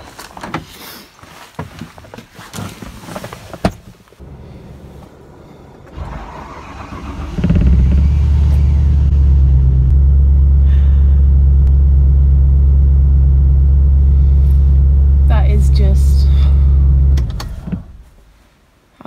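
After some clattering, a Land Rover engine starts and idles loudly with a deep, steady rumble and a slight rev, then cuts off abruptly.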